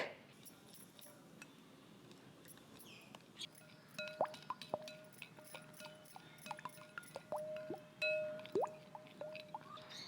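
A batter of rice flour, gram flour, wheat flour, baking soda, salt and water is stirred in a bowl, giving soft, irregular wet squishes and light clinks of the spoon against the side, faint and close.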